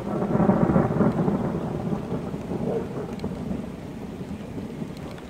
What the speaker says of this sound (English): now that it's raining outside,